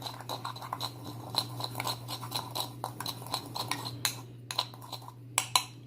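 A spoon mixes ground coffee, kosher salt and black pepper into a dry rub for beef, giving quick light clinks and scrapes against the bowl over a steady low hum, close and fairly quiet.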